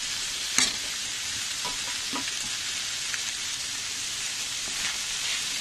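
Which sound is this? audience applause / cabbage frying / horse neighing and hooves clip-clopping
cabbage frying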